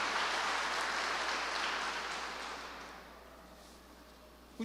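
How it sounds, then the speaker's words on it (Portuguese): Sustained applause from a church congregation during a Sunday morning service, a steady broadband clatter of many hands that fades gradually toward the end. "Dê um aplauso a Ele em nome de Jesus"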